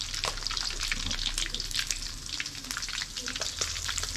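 Small frogs sizzling in a frying pan, a steady loud hiss with bright crackling spatters that runs unbroken from start to end, with no talk over it.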